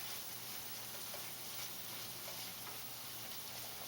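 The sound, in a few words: garlic simmering in olive oil and butter in a cast iron skillet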